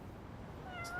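A black cat in the video game Lost Judgment gives a single short meow near the end, heard faintly over a low background murmur.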